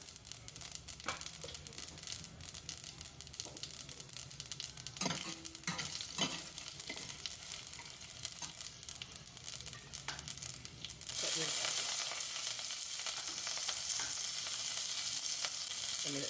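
Mustard seeds, cumin and crushed garlic fry in hot oil as a tempering for moong dal rasam. A faint, close crackle comes with small stirring clicks, then turns into a denser, brighter sizzling hiss for the last few seconds.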